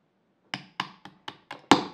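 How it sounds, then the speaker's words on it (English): A punch is struck repeatedly to drive the hammer pin out of a rifle trigger assembly resting on a bench block, six sharp metallic taps at a steady pace, the last hardest. "drive out the hammer pin"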